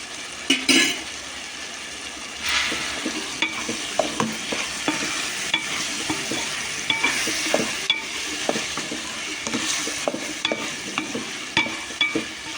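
Chopped tomatoes softening in a hot pan, with a steady sizzle and a spoon stirring and scraping at intervals, loud and close with no talking.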